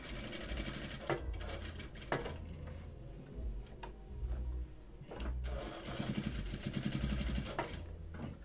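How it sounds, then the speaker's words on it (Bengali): Sewing machine stitching black fabric with matching black thread while making women's trousers, heard as quiet, close bursts of rapid mechanical whirring that start and stop in short runs, separated by brief pauses and small clicks. "ঠিক এভাবে কাছাকাছি একটা সেলাই দিয়ে নেবেন"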